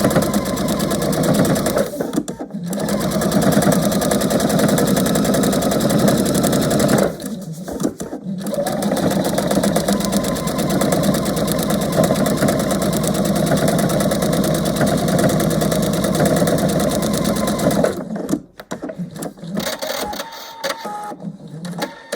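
A sewing machine stitches a seam on a scrappy heart quilt block, a steady mechanical whirring run that stops briefly twice and then cuts off near the end.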